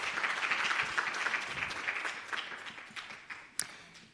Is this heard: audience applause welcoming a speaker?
yes